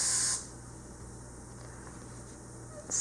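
Pledge furniture polish sprayed onto a miniature horse driving harness: one short close hiss at the start, quiet in between, then a second brief burst at the end.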